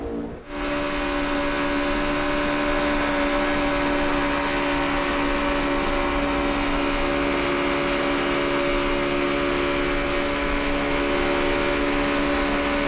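A Chevrolet NASCAR stock car engine races at 9,000 RPM around Daytona during the 500, a loud, sustained high-pitched whine that holds an unchanging tone after a brief start.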